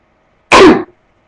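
A single sharp, loud sneeze, close and isolated, lasting under half a second with a quick burst and fading tail, surrounded by silence.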